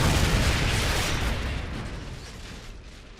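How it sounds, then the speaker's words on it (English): Javelin missile launch and blast in Modern Warfare 3, a loud, deep rumbling boom that opens the clip and slowly decays over a few seconds with no one talking. "Yeah, please, I'm trying to fire the Javelin."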